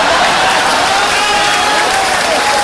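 Loud, dense audience applause at a Kumar Viswas poetry event in Siliguri, steady clapping from a large crowd filling the whole moment with no break.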